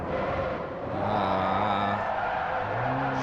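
A Scion FR-S drifts through a turn in Forza 4, with a steady engine drone and tires squealing and skidding across the whole stretch. The engine pitch shifts as the car exits the turn, and no one talks.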